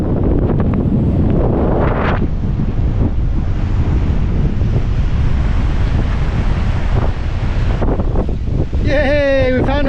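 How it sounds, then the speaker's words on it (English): Strong wind buffets the microphone at a lagoon in Nanaimo, a loud, constant rush with gusty low roar throughout, with brief faint voices near the end. "It's a bit windy."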